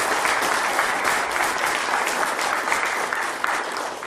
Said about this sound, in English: if we can have a round of applause for our students here